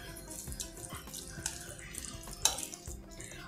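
A spoonful of water goes into paniyaram batter in a kitchen, a faint, brief splash and trickle among soft clinks, quiet and close.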